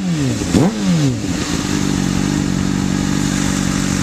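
A motorcycle engine, on a CBR600 or GS500, revs up and falls with a rising-then-dropping whine and some clattering, then settles into a loud, steady, close idle drone.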